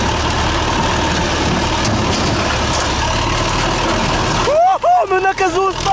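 A tractor engine runs loud and steady while driving through the Chernobyl exclusion zone. Excited voices shout over it, then a warbling siren-like tone cuts in during the last second.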